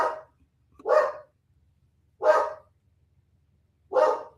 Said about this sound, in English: Who is in my yard? That's why you're barking.